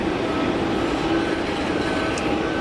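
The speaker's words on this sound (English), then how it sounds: "So we've got the Etihad Dreamy on the taxi." An Etihad Boeing 787 Dreamliner taxiing at Geneva Airport produces a steady, unbroken jet-engine roar and whine at a moderate distance, with no voices over it.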